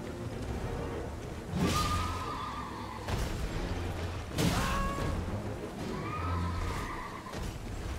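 A horse in the video game Elden Ring whinnies and snorts three times amid swishing combat effects, the neighs spaced a couple of seconds apart at moderate volume.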